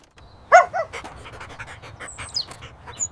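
A dog pants quickly and steadily close by, rapid breathy huffs running throughout with a brief louder burst early on and faint bird chirps in the background.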